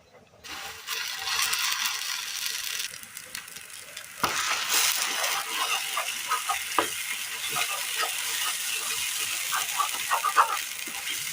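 Ground jackfruit paste stirs and sizzles in ghee in a hot pan, with a steady frying hiss that swells after a fresh scrape and continues under scattered clinks and stirring knocks.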